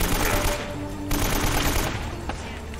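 Rapid automatic gunfire in the video game Uncharted: Drake's Fortune, loud and continuous bursts with a brief break near the middle, up close and steady.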